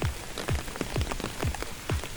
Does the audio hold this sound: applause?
no